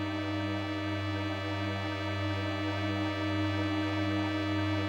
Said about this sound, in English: That is the sound of a Sega CD suffering.